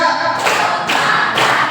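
Three sharp hand claps land at an even pace, close and loud, during a counting game in a classroom.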